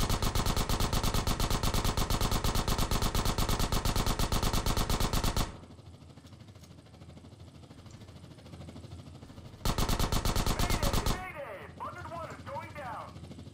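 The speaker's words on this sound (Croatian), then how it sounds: "Malo pucam po ovom liku, a?" Rapid automatic gunfire from Grand Theft Auto San Andreas rattles in a loud, continuous burst for several seconds, drops out, then returns in a second shorter burst, followed by quieter game sounds and faint voices.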